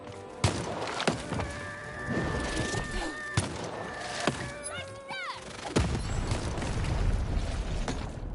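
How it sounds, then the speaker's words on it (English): Cannon shots in the video game Lost in Random: several loud booming blasts at irregular intervals over a busy game soundscape of mechanical clatter, tonal cues and rising whooshes. "Shoot the button to fire the cannon."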